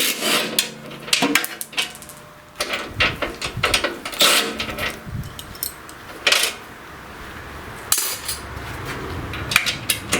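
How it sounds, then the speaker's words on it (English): Metal hand tools, a 10mm socket and a 13mm wrench, work bolts and nuts loose on a Champion chipper shredder, giving close clinks, scrapes and rattling taps in irregular bursts with no talking. "you need a 10mm socket and a 13mm wrench to hold the nut on the other side"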